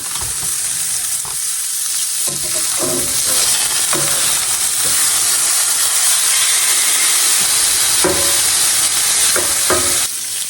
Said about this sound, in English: Pan is super duper hot. The pork will take longer than the shrimp. Putting that in first.